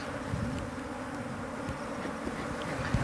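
Honeybees buzz steadily at an open beehive during a beekeeping session, a dense, continuous low drone of many insects close by with faint individual passes drifting over it, no speech.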